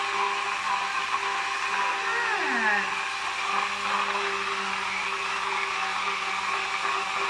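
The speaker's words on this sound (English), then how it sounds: "blend the tomato into just a sauce, like a puree" An electric blender whirs steadily while pureeing tomatoes into a sauce, a loud continuous motor drone with a brief shift in pitch early on, running without a break for several seconds.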